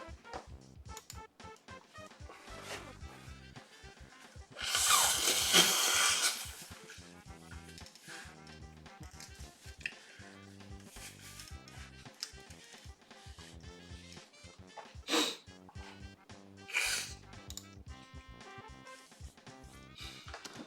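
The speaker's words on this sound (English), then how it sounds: "blow my nose real quick" Midway through, a person gives one loud, rough nose blow lasting about a second, rising over quieter background game music and tapping that continue around it.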